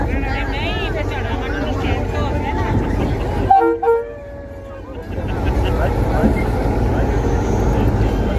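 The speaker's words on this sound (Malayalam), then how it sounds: "ട്രെയിൻ മൂവ് ചെയ്യുന്നു" A moving train rumbles loudly, then a brief horn toot sounds before the rolling noise of the rail cars resumes, heard close by with people talking over it.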